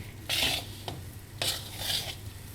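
Besan and ghee are worked together in a pan with a spoon, giving several short gritty scraping swishes in bursts, close and fairly loud, over a faint low hum.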